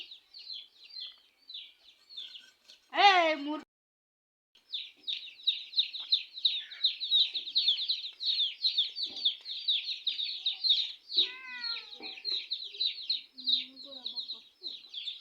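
Chickens and a rooster calling and clucking in a steady chatter, with one loud squawk near the start and a few calls later, close by.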